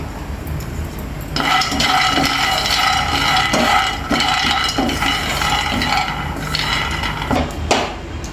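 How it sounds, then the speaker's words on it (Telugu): Peanuts frying in a pan at the start of a chikkudukaya (broad bean) fry give a loud, steady close-up sizzle. Occasional clinks and scrapes of stirring break through it. "అన్నీ వేయించుకుందామండి ఫస్ట్ పల్లీలు వేసేసినా"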